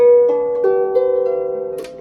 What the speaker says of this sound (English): the harp is a smaller harp.